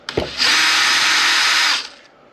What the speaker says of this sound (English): Definitely in this plastic, you don't want to over tighten these screws